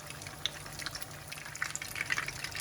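Quiet sizzling and popping of minced-pork spring rolls frying in hot oil, with small crackles scattered over a soft steady hiss.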